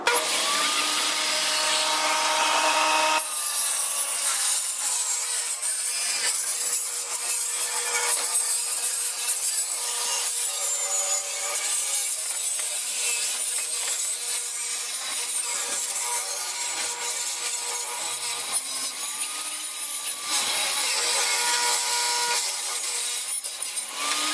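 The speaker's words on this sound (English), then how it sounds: "we're gonna get the plywood and we're gonna cut down the line" A saw cuts along a marked line through plywood for a budget kicker ramp, a loud, steady rasping that runs almost unbroken for the whole stretch with no talk over it.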